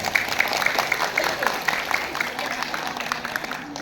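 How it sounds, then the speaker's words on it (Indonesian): Women's congregation at an Islamic religious gathering applauds, a lively rhythmic clapping with crowd noise, moderately loud and fading slightly toward the end. "Tepuk tangan untuk muslimat."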